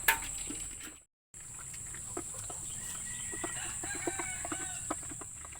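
Brown egg-laying hens cluck and call in a farmyard, scattered short bird sounds over a steady high hiss, with a brief gap of silence near the start and no talk.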